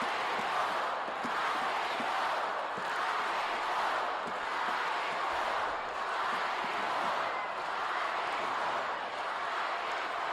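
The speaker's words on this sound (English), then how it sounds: "Those thunderous chants of rock and roll continue here in the" A wrestling crowd at the Mid-South Coliseum, 1984, chanting "rock and roll" in a steady rhythmic pulse, a big roaring arena sound that swells and repeats throughout without talk over it.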